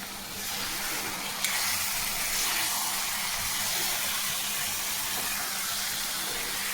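Chilapi fish, coated in turmeric and salt and left to marinate for half an hour, frying in a pan over a lowered gas flame, giving a steady, close, bright sizzling hiss that holds evenly throughout without a break.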